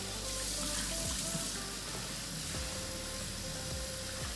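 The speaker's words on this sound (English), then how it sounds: "And then I just like to give it one more rinse from there." Sea moss is rinsed under a running kitchen tap, a steady loud gush of water into a sink with small splashes and shifting as it is handled, no talking.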